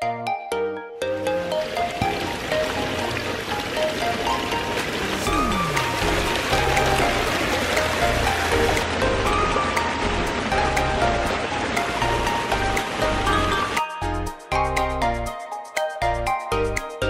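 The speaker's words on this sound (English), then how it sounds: "One waterfall's right outside isn't good enough." A waterfall beside a koi pond pours in a steady, loud, broadband rush that fills the whole stretch, briefly thinning out near the end.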